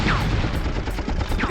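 Gunfire rattles in the Apocalypse video game, rapid shots and booming bursts repeating in quick succession with explosive rumble behind them.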